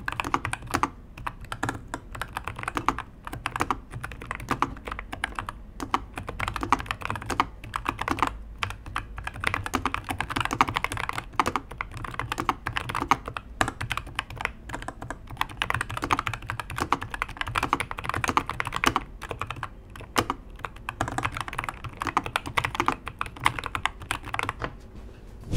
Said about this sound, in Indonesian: varian switch gue ini yang Moss ya, yang tactile tuh. Jadi buat kalian yang pengen dengar suara typing testnya, kalian bisa dengar suaranya sebagai berikut.